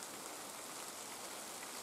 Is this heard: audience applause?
no